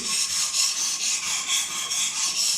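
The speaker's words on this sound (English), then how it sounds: "you just start to sharpen like this." Knife blade being sharpened on a TSPROF K03 Pro AL Hunter sharpening kit at a 25 degree angle, a steady rhythmic rasping of stone strokes across the edge, close up and continuous with no talking.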